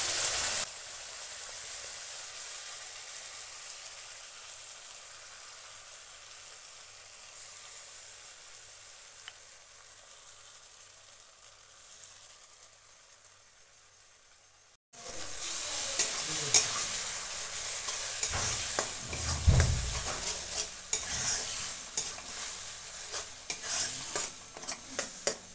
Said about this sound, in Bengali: পেঁয়াজ রসুনটা ভাজা হয়ে গেছে। এতে এখন এই পালং শাকের পেস্টটা দিয়ে দেব।